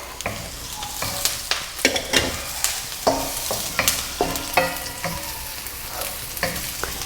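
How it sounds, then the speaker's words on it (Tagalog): Garlic, onion and ginger sautéing in a pan for ginataang langka, a continuous sizzle broken by repeated clanks and scrapes of a utensil stirring against the pan, close and fairly loud. "igigisa natin yung ating bawang. Isabay na din natin yung ating sibuyas."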